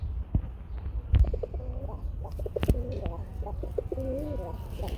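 Rasgolla pigeons coo at a farm with soft, repeated warbling calls that sit under a steady, noisy outdoor background, with a few sharp clicks and bumps nearby.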